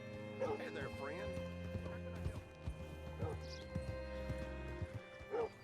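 Horse hooves clip-clop at a slow walk in Red Dead Redemption 2, irregular thuds fairly faint under steady background music and ambience, with a few sharper clops standing out near the end.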